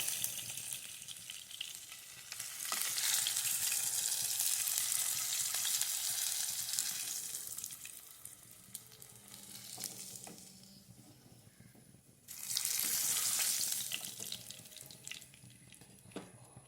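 Fish fries in oil in a pan to crisp its outside: a hissing sizzle swells loudly, eases off, then surges again in a second strong burst, with no talking.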